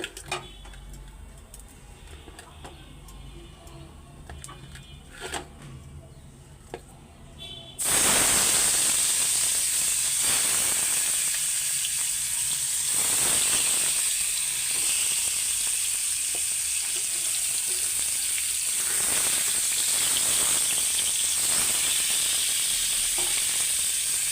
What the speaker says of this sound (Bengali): তো মাছগুলি এখন ভাজতে দিয়ে দিব